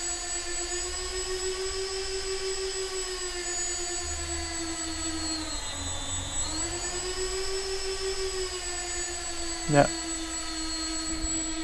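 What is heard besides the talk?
Walkera Runner 250R racing drone motors spinning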